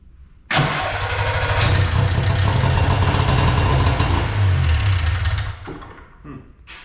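An old snowmobile engine, plugs wet from priming, catches abruptly and roars loudly at close range for about five seconds before sagging and sputtering down.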